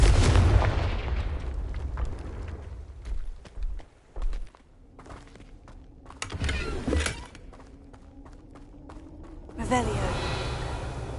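Spell-casting explosions and magical bursts from the video game Hogwarts Legacy, with a loud blast at the start, scattered sharp impacts and booms, and a humming tone in between, alongside grunting and gasping.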